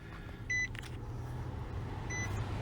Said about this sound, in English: Okay, so you hear the beep.